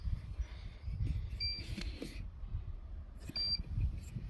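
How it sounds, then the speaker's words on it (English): Short electronic beeps sound twice, clear and high-pitched, separated by a few seconds of low rumbling background noise, with no speech. "let's stop this beeping because it's really annoying"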